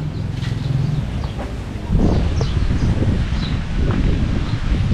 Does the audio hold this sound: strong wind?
yes